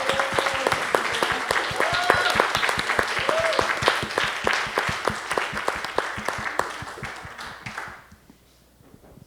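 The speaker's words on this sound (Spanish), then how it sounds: "Aplauso para nuestra performance." Audience applause after a performance at a panel discussion, with many hands clapping rapidly and loudly for about eight seconds before the clapping fades to near silence.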